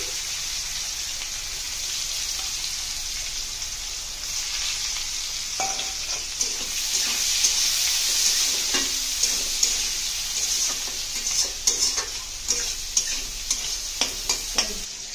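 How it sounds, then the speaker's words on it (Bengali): Cardamom, cinnamon, bay leaf and chopped onion fry in hot oil with a continuous bright sizzle that swells midway, joined later by frequent scrapes and clicks of stirring; no talking. "তেল গরম হয়ে এসেছে, এখন দিয়ে দিচ্ছি এলাচ, দারচিনি আর তেজপাতা। দিয়ে দিচ্ছি পেঁয়াজ কুচি,"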